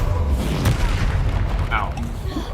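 A spell blast in a fantasy wizard video game: a loud booming burst of fire with crackling, explosive texture, dense and continuous over its short length, with speech-like sounds underneath.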